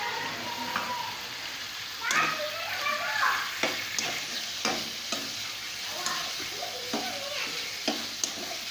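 Chicken with ginger and garlic sizzles and fries in a pan for chicken kadhai, with repeated scraping stir strokes at a steady pace, moderately close throughout.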